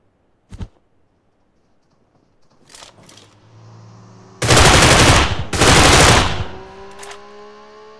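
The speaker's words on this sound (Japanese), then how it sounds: "銃声は聞こえるが、" A sharp single shot, then scattered pops and two loud bursts of rapid gunfire in PUBG Mobile, fading into a ringing tail.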